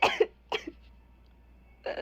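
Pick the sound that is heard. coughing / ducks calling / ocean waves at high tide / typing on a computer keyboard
coughing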